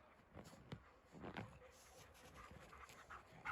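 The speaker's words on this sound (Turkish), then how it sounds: "Bak köpekler orada." A dog pants softly and rapidly nearby, with a few faint whimpers and snuffles in a quiet outdoor setting.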